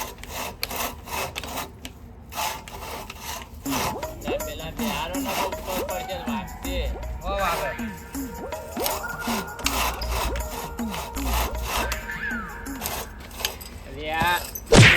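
A hand saw cuts through wood in rhythmic back-and-forth strokes, close and steady, with people talking over much of the sawing.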